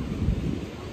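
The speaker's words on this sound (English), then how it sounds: "It's a little bit windy, guys" Wind at the beach buffets and rumbles steadily across the microphone outdoors, a brief gusty roar with no voices.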